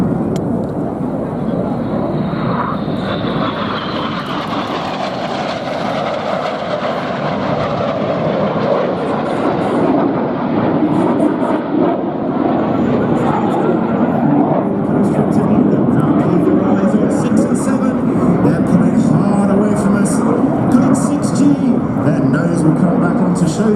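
Red Arrows jets pass each other at close range at a 2019 New York airshow, a sustained roaring jet rumble that swells and stays loud, with a voice heard over it.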